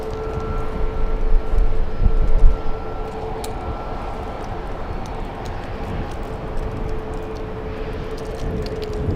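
A United Airlines Boeing 787-9 Dreamliner jet on runway 24 left at LAX, heard as a loud, steady broadband roar with a faint sustained tone, swelling briefly early on, distant and continuous.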